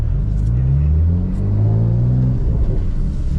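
A manual BMW M3 engine revs hard in second gear while drifting, a loud close rumbling roar rising and falling in pitch, with a faint whine on top and no talking.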